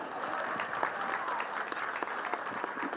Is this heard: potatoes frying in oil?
no